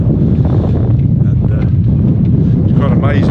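Wind buffeting a microphone aboard a sailboat after a gale, a loud low rumbling gusty roar with a voice talking faintly over it.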